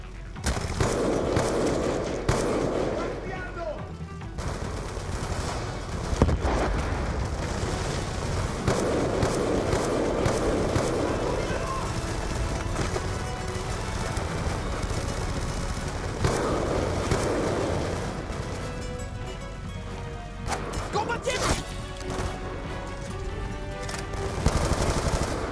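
Gunfire in Call of Duty: Black Ops 2 on PC comes as dense, continuous automatic bursts with repeated loud shots and explosions across the whole stretch, set against a busy game soundscape.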